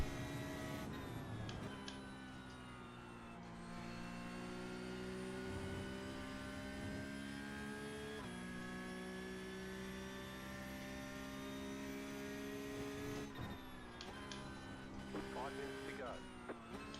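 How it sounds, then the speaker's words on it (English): A Porsche Cup race car engine in iRacing at Silverstone drones steadily with shifting pitch for a sustained stretch, faint and under a speaking voice, with brief changes as gears shift. "I keep on hearing his engine note through the slow bits."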